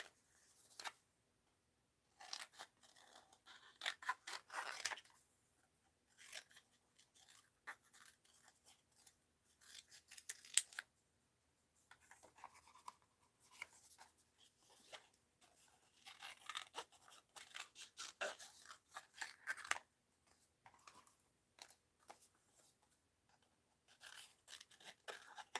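Scissors snip repeatedly and closely as paper pieces are fussy-cut for mixed-media art, irregular bursts of crisp cuts and paper rustle separated by short quiet pauses.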